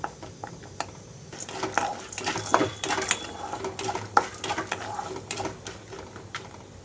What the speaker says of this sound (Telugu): పుట్నాలు లైట్గా కలర్ మారే వరకు వేయించుకోవాలి అలాగే పల్లీలు అయితే విడిపోయేంత వరకు మధ్య మధ్యలో కదిలిస్తూ రెండు నిమిషాలకు ఒకసారి వేయించుకుంటున్నాను